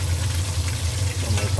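Fish frying in hot oil in a pan gives a steady, close sizzle with a low hum underneath, heard alone without speech.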